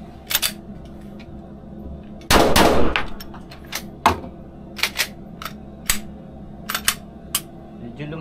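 Gunshots ring out at an indoor shooting range, sharp loud reports spaced irregularly, one heavier blast with a longer echo, others short and cracking, with faint talk between them.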